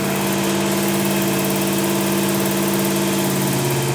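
A Dodge Ram truck engine runs steadily during a two-stage break-in on a rebuilt motor that had lost cam lobes, a loud, constant mid-pitched idle drone with rough vibration and no speech.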